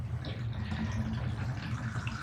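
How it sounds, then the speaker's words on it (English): A bathtub drain, just cleared of a clog, swallows water in a soft, steady rushing gurgle, quiet and close with no voices. "it's draining perfectly"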